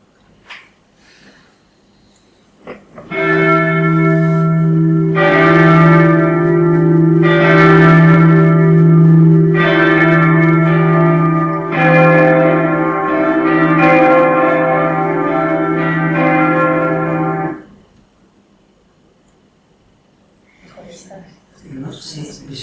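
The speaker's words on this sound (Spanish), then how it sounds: "Volvemos a poner las campanas." Church bells toll for about fifteen seconds, loud and reverberant, with rich sustained ringing and several distinct strikes before fading into quiet room sound.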